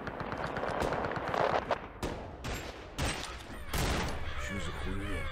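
Gunfire, shotgun blasts among it, in a STALKER fan film battle: loud bursts of shots and sharp single blasts under shouting voices and talk, with crow caws in the background.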